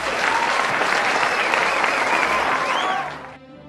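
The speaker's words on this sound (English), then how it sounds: "Let us give our children another warm applause." Warm, dense applause from a crowd at a kindergarten commencement ceremony, steady and loud for about three seconds before cutting off abruptly.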